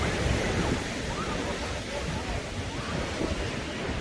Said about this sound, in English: It is a surf beach. Hopefully you can hear me over the surf,